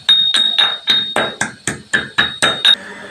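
Spices for a Christmas cake pounded together in a mortar, about ten sharp, evenly spaced strikes ringing close and loud, each with a brief metallic clink.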